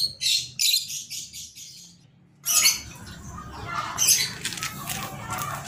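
Lovebirds in an aviary chatter with sharp, shrill chirps and squawks in repeated bursts, then a busier overlapping flock chorus close by.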